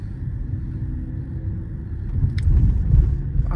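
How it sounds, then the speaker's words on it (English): A car close behind a Mercedes-AMG GLE 53 on a late-night drive gives off a steady low engine rumble. It stays loud and continuous and swells slightly near the end. "it's the car behind me"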